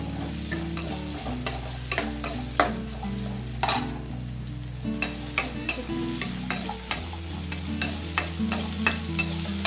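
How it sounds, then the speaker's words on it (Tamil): Shallots and curry leaves sizzle steadily in a pan for a cluster-bean poriyal, while a spoon scrapes and stirs again and again, close up. No one speaks. "சின்ன வெங்காயம் கருவேப்பிலை எல்லாம் வதங்கிட்டோம்."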